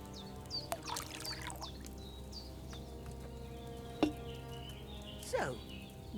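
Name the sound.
pouring wine into a cauldron, from video game Kingdom Come: Deliverance II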